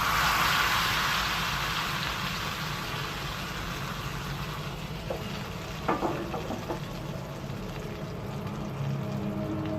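Hot golden tadka hitting moong, masoor and chana dal sizzles loudly and steadily, a dense crackling hiss that starts strong and eases slightly, with a few soft clinks from the pan.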